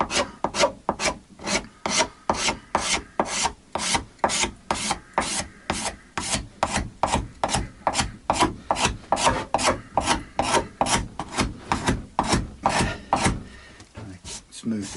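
Steady, rhythmic rasping strokes of a sharp scraper smoothing wood grain on a guitar, about two strokes per second, close and fairly loud, continuing without talk.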